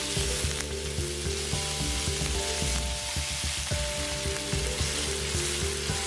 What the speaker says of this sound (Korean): 마른 팬에 우삼겹 180g을 넣고 후추를 뿌려서 볶아주세요.